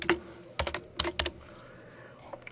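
Typing on a computer keyboard: several short bursts of crisp key clicks, close and moderately loud, with brief pauses between clusters and a quiet room tone behind.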